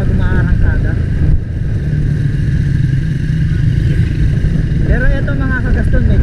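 A Yamaha Sniper 150 FI motorcycle engine revs and accelerates close by, its pitch rising in sweeps at the start and again near the end, with people talking over the engine noise.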